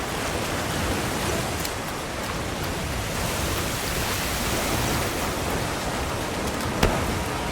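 Heavy rain in the video game Monster Hunter Wilds pours down in a dense, steady hiss that never lets up, with one faint sharp click near the end.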